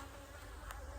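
Honeybees buzz continuously around an open hive while someone looks for an unmarked queen, producing a steady, close, droning hum with no voices.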